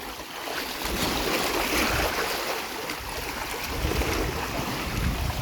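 Loud, steady rush of churning water and breaking surf around a boat at sea, a continuous broadband roar with surging swells, no voices.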